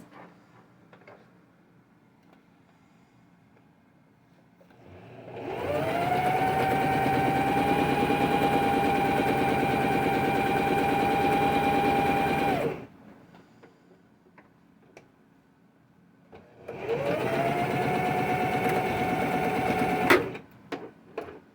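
An antique sewing machine running a straight stitch, two long steady whirring runs separated by a quiet pause, close and fairly loud, with faint clicks in between.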